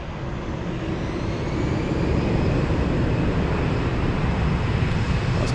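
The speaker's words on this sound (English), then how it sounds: "United 75 flying to Newark, a 767-300. That's the next takeoff on 25 center." A United Boeing 767-300 bound for Newark takes off from runway 25 Center at Frankfurt airport, a loud, steady broadband jet roar that swells slightly and holds without any talk.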